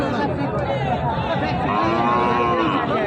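Cattle at a livestock market near the Indian border in Joypurhat, with a low lowing moo rising over a steady crowd hum and chatter as buyers haggle nearby.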